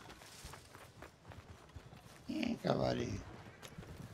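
Horse hooves in the video game Red Dead Online, a quiet steady clip-clop of walking steps, with someone speaking over the middle of it.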